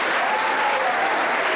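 A crowd of guests claps warmly and continuously, close and dense, for named graduates at a July 2016 graduation ceremony.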